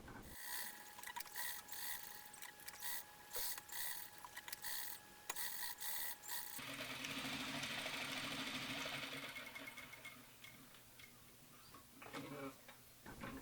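A domestic sewing machine stitches a robe sleeve seam on a costume, running in quick, rhythmic mechanical bursts with brief pauses, then a longer continuous run, close and fairly quiet.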